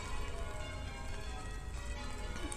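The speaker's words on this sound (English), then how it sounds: "There's the source of the bells. It's coming from University College" Church bells of University College of St Mary the Virgin, Oxford, ring out in a continuous dense wash of overlapping tones, steady and fairly loud in an outdoor street setting with no talking.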